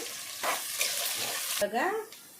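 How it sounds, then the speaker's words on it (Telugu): Sliced onions and green chillies sizzle and fry in hot oil in a pan while being stirred, a steady close hiss for chicken gravy, with a brief voice near the end. "పచ్చిమిర్చి, ఎర్రగడ్డ వేగిందండి."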